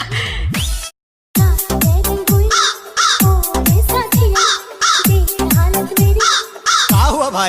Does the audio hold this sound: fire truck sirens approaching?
no